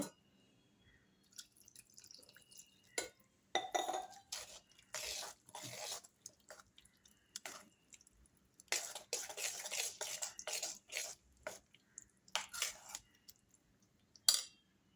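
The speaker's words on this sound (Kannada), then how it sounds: "ಇವಾಗ ಇನ್ನೊಂದು ಸ್ವಲ್ಪ ನೀರು ಸೇರಿಸ್ಕೊಳ್ತೀನಿ ಇದಕ್ಕೆ" Water is poured into idli batter made from rice that was neither soaked nor ground, then a spoon scrapes and stirs it in a bowl in irregular bursts of clinking and sloshing, with quiet pauses between.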